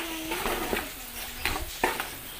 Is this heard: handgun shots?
no